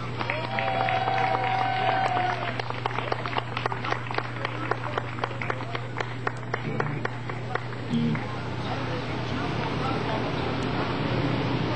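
An audience claps and cheers welcoming the mayor at an outdoor community event, a dense burst of applause that thins gradually across the stretch, with crowd voices mixed in.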